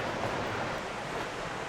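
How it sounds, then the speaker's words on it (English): The waterfall at Rifle Falls State Park, Colorado, a steady, even roar of falling water heard alone, with no voices. "That's definitely a waterfall."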